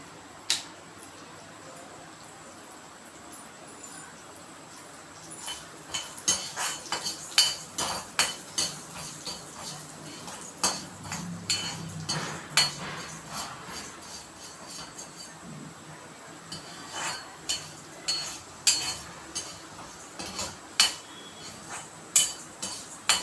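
Urad dal being roasted in a pan while making pudina chutney: a soft steady sizzle with repeated sharp scraping and clinking of a spoon against the pan, close up and fairly quiet.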